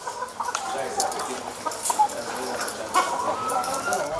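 Chickens on a poultry farm near Abuja cluck and squawk continuously in a dense, overlapping chorus with occasional louder calls, a busy flock close by.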